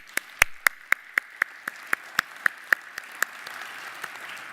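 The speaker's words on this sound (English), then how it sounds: "How about a round of applause for Robin and her team?" A lone pair of hands claps about a dozen times in an even rhythm at a lifetime achievement ceremony, each clap sharp and distinct before the sound thins out and fades near the end.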